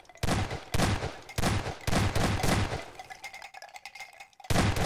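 A wire turret fires in the Garry's Mod video game, loud clustered bursts of gunfire in rapid volleys separated by brief gaps, with a quieter stretch before a final burst.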